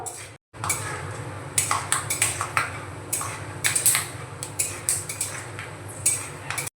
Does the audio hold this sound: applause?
no